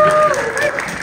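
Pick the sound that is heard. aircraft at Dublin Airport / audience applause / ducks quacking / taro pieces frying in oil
audience applause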